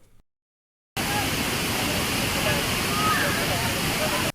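Areekkal waterfall pours down from above into a walled pool, a loud, continuous broadband roar that starts abruptly after a moment of silence and holds steady.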